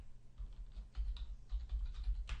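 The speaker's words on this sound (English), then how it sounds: "Next, I will type in my address, followed by Tab to navigate to the next field." Someone types an address on a computer keyboard in an office software setting: a steady run of close, crisp key clicks in irregular bursts over about two and a half seconds, with no voice.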